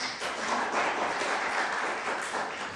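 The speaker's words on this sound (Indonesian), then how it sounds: "Beri tepuk tangan untuk Tuhan" A church congregation applauding steadily during a service, dense clapping sustained throughout at a fairly even level.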